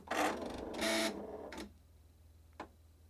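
A Husqvarna Viking Designer I embroidery machine with an embroidery arm fault powers on, giving a couple of whirring motor bursts as the arm moves, then a short click and quiet hum, close and alone.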